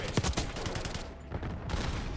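Gunfire in the video game Call of Duty: Black Ops 6, a loud, dense, continuous stream of rapid shots and crackling impacts with no pauses, filling the whole stretch.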